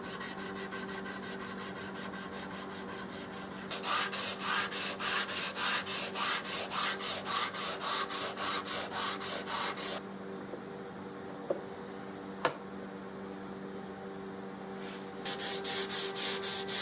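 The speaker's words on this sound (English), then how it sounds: "Until I get further along, I stop at 180 grit sandpaper." A wooden rifle stock from a Remington 700 being hand-sanded with 180 grit sandpaper: close, rhythmic back-and-forth rasping strokes in a steady run, a pause with a couple of faint knocks, then sanding resumes.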